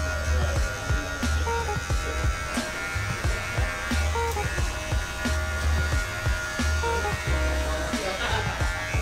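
An electric hair clipper buzzes steadily while cutting hair, its motor hum running continuously and fairly loud with small rhythmic changes as it passes through the hair.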